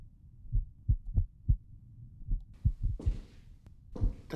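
A heartbeat in an indie horror video game thumps as low, regular double beats close up, repeating steadily while bursts of hissing noise come in toward the end.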